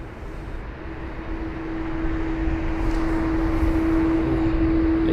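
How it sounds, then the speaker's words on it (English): A Swiss Airbus A220-100 departing London Heathrow gives a steady, distant jet roar with a sustained tonal whine that swells gradually louder, heard alone with no speech. "We have got a Swiss A220-100 next to depart off to Geneva"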